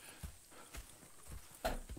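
Horse hooves clip-clop in Red Dead Redemption 2. A few soft, evenly spaced thuds land at a moderate distance, with no talking.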